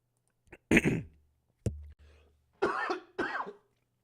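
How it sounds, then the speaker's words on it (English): Several rough coughs sound close to a microphone during a live basketball pregame chat, arriving in uneven bursts, with two deep hacks closing the run. "Sorry, I hate coughing in y'all ear."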